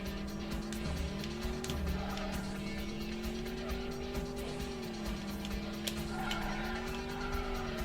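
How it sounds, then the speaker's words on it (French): Car engine drone from the Spy Hunter arcade driving game, a steady tone that bends in pitch with acceleration, with brief tire screeches, continuous and fairly loud with no talk over it. "C'est un jeu de voiture. La voiture fait un bruit plutôt simple,"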